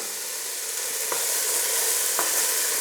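Onions frying in oil in a pan, a steady close bright sizzle broken by a couple of faint clicks of stirring, with no talk.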